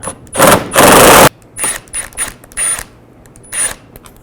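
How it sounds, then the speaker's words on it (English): Bolts being removed with a 10mm socket and ratchet from the side of a 2004-08 Infiniti G35 during headlight replacement: two loud bursts of rapid ratcheting up close, then several shorter, quieter clicking spells, with no talk. "And then also on the sides, take these 3 bolts out. Use a 10mm socket."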